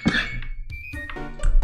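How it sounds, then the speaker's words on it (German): A sharp cough near the start, followed by faint clinks and a few short bumps, close and loud against otherwise quiet surroundings. "Hust, hust."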